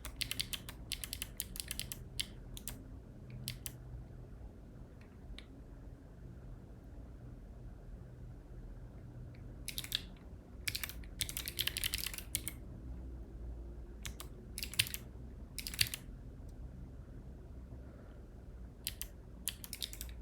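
Rapid bursts of typing on a Voyager keyboard with chalk white switches, close and crisp, come in clusters separated by quiet pauses, with no talk.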